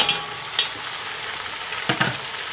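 Meat for Kashmiri gosht rogan josh sizzling steadily in a hot pan with fennel seeds, with a few sharp scraping stirs at intervals and no talking.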